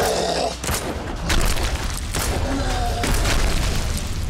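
A loud boom opens a chaotic stretch of blasts and crackling impacts during a boss fight in the survival game Mist Survival, close and harsh.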